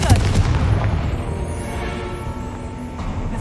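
In Hogwarts Legacy, a Confringo spell sets off a fiery explosion: a booming blast up front that fades into a rolling, rumbling tail.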